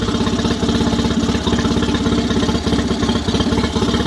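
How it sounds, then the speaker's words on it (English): A warmed-up Mercury outboard motor idles at about 960 RPM, a steady, close, rhythmic clattering putter that runs evenly throughout without any voices. "The motor's warmed up around 960 RPM at idle."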